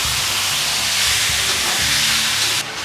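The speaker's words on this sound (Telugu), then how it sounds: "చికెన్ ముక్కలు మాత్రం వేసేసి ఓకే ఇప్పుడు దీన్ని అంతటినీ ఒకసారి బాగా కలుపుకుందాం" Chicken pieces stirred in a hot pan for a simple curry fill the sound with a loud, steady sizzle and hiss. Low scraping scrapes sit under it, and the sizzle drops off sharply near the end.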